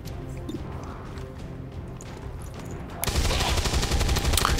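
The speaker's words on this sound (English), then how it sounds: "And now I can take a shot" XCOM 2 video game combat: a sudden loud gunfire burst erupts after a quieter stretch of ambient game sound, followed by sustained crackling fire and impacts, with brief speech near the start.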